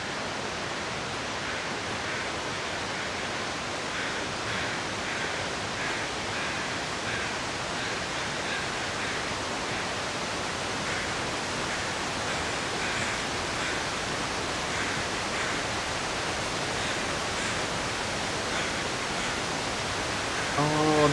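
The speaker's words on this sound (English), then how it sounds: "Oh, the waterfalls." Loud waterfalls in a video game form a steady, broad roaring rush of water that holds constant and dense throughout, with no other distinct sounds rising above it.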